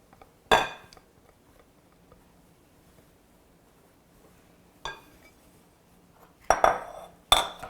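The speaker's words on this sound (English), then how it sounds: "So go ahead and just dump our wet ingredients into the dry." Wet cake ingredients poured into dry ones in a bowl, heard as a few sharp clinks and clatters of utensils against the bowl separated by quiet stretches, close and fairly soft.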